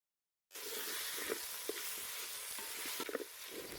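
Meat fries in hot oil with chopped onions in a pot, a dense, steady sizzle that starts abruptly after a moment of silence, with a few soft pops and stirring knocks scattered through it.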